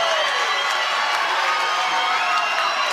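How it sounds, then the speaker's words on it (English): A Muay Thai fight crowd cheers and shouts in a steady, dense roar of many voices, loud and continuous throughout. "the crowd absolutely loving this one"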